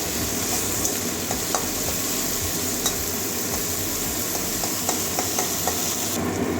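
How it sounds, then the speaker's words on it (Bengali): Onions fry in a pan for a Bengali pui shak curry with papaya bori, a continuous close sizzle with scattered scraping clicks of a spatula stirring throughout. "পেঁয়াজের কাঁচা গন্ধ যাওয়া পর্যন্ত ভেজে নেবো"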